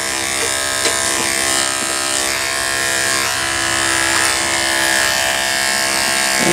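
Electric clippers buzz steadily while shaving the coat of a senior show doe goat, a close, continuous whine with slight shifts in pitch as the blade moves along the body, no talking.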